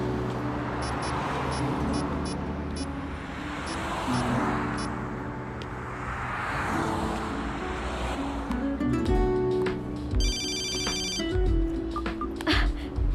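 A telephone rings in repeated electronic trills over a rumbling car-like background, with a brighter ringtone burst near the end.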